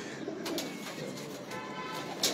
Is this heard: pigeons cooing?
yes